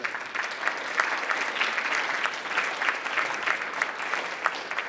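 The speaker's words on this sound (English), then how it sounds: "Round of applause for yourself." Steady, dense applause from a seated audience at a talk on leadership, an even wash of many hands clapping at moderate loudness for about five seconds with no speech.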